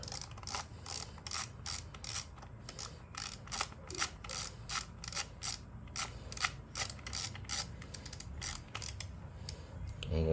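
A chain adjuster bolt on a 2022 Yamaha MT10 motorcycle is run in with a ratcheting tool, making a fast, close series of sharp mechanical clicks in uneven bursts, with a brief grinding scrape near the end.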